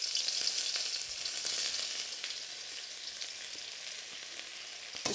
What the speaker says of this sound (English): I'm going to go for my onions first, but then I'm going to take my pork second and start to sear it well.